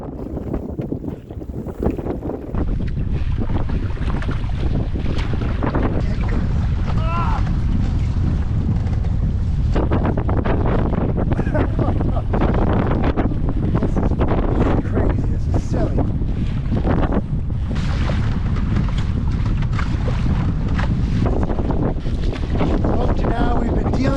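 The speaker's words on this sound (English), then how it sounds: "Dealing with 25 kilometer an hour sustained and maybe 35 kilometer an hour gusts." Strong, gusty wind buffets the microphone while canoeing on the French River, a loud continuous roar with surging gusts over lapping water throughout.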